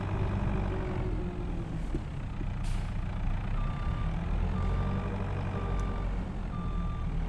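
Heavy farm truck or tractor in Farming Simulator 22 reverses into a parking spot, a steady low engine rumble under a regular series of high reversing beeps, close and clear with no talk.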